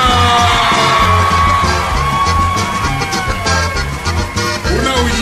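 Loud, sustained howling yells and whoops from women in a lively crowd at a live music show over pounding music, the cries rising and falling without pause.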